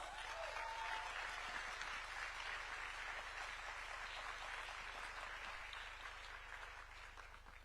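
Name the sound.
audience applause for a speaker at a summit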